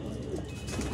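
Sialkoti pigeons cooing in a breeder's loft, a close, low, throaty coo repeating in soft pulses over a brief moment.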